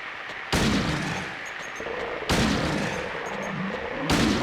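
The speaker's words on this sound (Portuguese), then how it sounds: "Deixa eu dar uns tiros de pistola aqui" Pistol shots in the video game Silent Hill 2 on PS2: three loud, sharp shots spaced about two seconds apart, each with a ringing reverberant tail, no speech.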